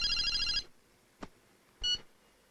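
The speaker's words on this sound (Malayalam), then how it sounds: "ഫോൺ വരുന്നു." A telephone rings in two bursts: a loud, warbling electronic ring for about half a second, then a short second ring after a pause, with a faint click between them and no talking.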